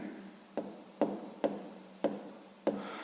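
Pen strokes on paper while working a sixth-grade math exercise, five or six short scratchy bursts in an uneven rhythm, close and quiet, with no talking.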